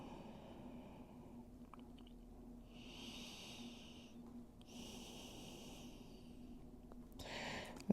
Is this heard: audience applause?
no